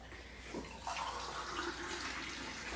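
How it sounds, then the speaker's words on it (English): Reverse osmosis water is poured into a container in a home kitchen while a pizza is being made, a faint, steady trickle and splash of liquid running for a few seconds. "So this is reverse osmosis water that I use and drink out of."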